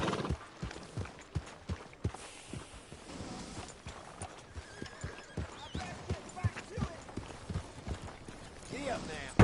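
Horse hooves clip-clop at a steady trot in Red Dead Redemption 2, with a brief whinny and game voices talking over the hoofbeats.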